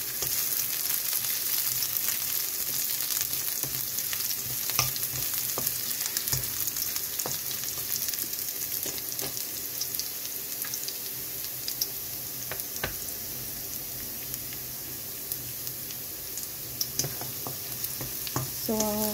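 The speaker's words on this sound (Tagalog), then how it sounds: "Ilagay na natin yung bawang. Igisa lang natin hanggang maging aroma yung ating bawang." Garlic fries in hot oil alongside browned ginger, giving a continuous even sizzle with scattered light stirring clicks for a prawn dish, no speech.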